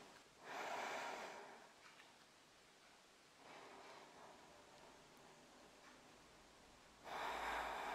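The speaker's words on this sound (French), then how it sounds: "On va prendre quelques respirations ici." Slow, deep breaths during a new moon yoga session: three long, soft airy inhales and exhales spaced a few seconds apart, close and fairly quiet, with no talking.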